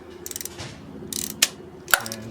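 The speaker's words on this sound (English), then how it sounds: "We're gonna take the spark plug out using a 9/16 socket" A ratchet with a 9/16 spark plug socket loosens a spark plug on a 2010-2015 Toyota Prius, giving a few close, quick clicking pawl bursts over a low hum, with sharp metallic clinks between them.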